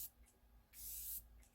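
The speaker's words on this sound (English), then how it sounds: "who does not love a good cold watermelon mist?" A Glow Recipe Watermelon Glow Mist bottle gives a short, soft pump spray, a brief close hiss of fine mist, preceded by faint quieter spritz sounds.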